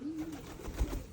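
Pigeons coo in a low, rolling call with a couple of soft pulses toward the end, close by and fairly quiet, with no talking.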